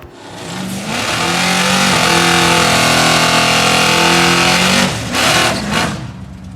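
Big block turbocharged drag car engine running on race fuel, a loud roaring rev that climbs and holds for several seconds before dropping off, followed by short blips of throttle.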